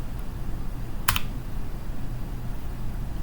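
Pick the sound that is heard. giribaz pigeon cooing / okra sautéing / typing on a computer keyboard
typing on a computer keyboard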